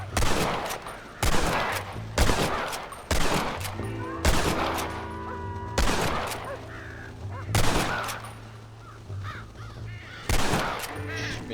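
Rifle gunfire in the video game Red Dead Redemption on a farm: about eight loud shots spaced roughly every second and a half, each trailing a short echo, with crows cawing in the background.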